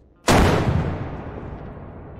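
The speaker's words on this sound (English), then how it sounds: "the explosion doesn't have any damage" A loud explosion effect from a landmine in a Unity first-person shooter game bursts suddenly and then rumbles off in a long decaying tail, with no talk over it.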